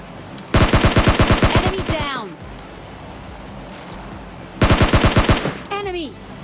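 Gunfire in PUBG Mobile Lite: two loud bursts of rapid automatic fire, each a tight string of close shots followed by ringing, whistling decay, with a quiet gap between bursts.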